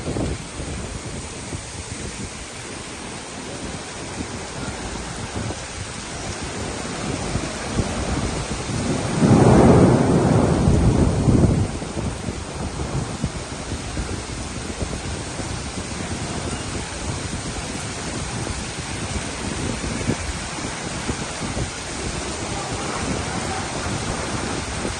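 Heavy rain pours steadily over Makkah, with a loud rolling thunder clap swelling near the middle, while wind buffets the microphone throughout.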